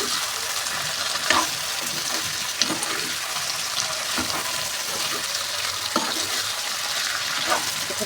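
Pork pieces fry with a steady, close sizzle in a pan, with watery crackle and the occasional scrape and clack of a utensil stirring the meat.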